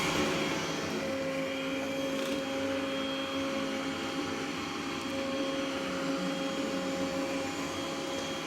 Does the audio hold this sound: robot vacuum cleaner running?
yes